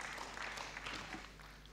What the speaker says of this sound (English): So another round of applause to Kalam Research Media and Islamic and Strategic Studies of Islam.